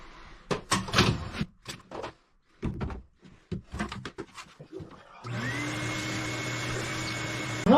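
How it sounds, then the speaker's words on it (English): Household vacuum cleaner hoovering aboard a boat during saloon demolition, starting after a run of knocks, thuds and clatter and then droning loudly and steadily with a rising whine to the end. "I'm going to just hit that with the vacuum real quick too."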